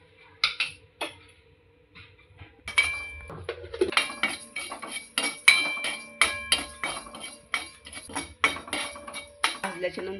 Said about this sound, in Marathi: आता यातच मी थोडेसे जिरे पण भाजून घेते आणि यातच हे थोडेसे धणे आणि मी बडीशोप भाजून घेत आहे